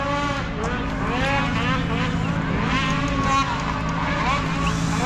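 Snocross race sleds roar around a track on a bright day, their engines loud and layered with rising and falling revs as they pass at varying distances. Faint voices may sit beneath the noise.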